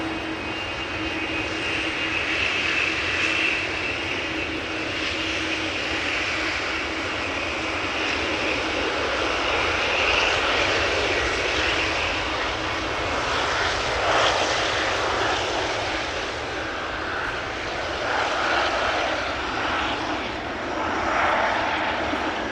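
A KLM Boeing 777-300ER arriving at Amsterdam Schiphol Airport, its steady jet engine roar sustained and broad throughout, moderately loud and fairly near, with no voices over it.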